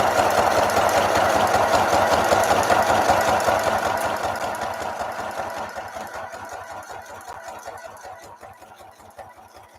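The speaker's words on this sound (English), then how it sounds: "All right, guys, sewing is done." Sewing machine stitching in rapid, even mechanical pulses, close and steady at first, then gradually slowing and fading toward the end, with no talking.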